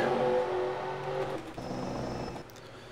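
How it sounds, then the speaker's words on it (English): Race cars in a NASCAR-style cup series video game at Daytona pull out of pit road, a steady layered engine drone with rising tones that shifts and thins partway through, with no talk. "Cars pulling out of pit road for their one pace lap around the racetrack."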